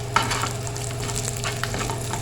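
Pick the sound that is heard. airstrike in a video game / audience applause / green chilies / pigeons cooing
green chilies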